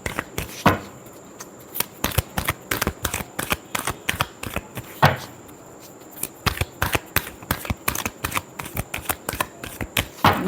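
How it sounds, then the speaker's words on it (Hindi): Tarot cards being shuffled by hand in repeated quick bursts, crisp riffling clicks and flutters close up, with short pauses between runs and no talking. "Last shuffle."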